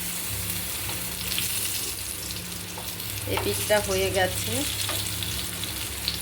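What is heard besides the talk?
pieces frying in mustard oil in a pan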